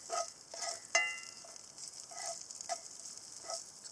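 Food cooks in bacon grease on a Redcamp wood stove, giving a faint, steady frying hiss with a few soft crackles and pops.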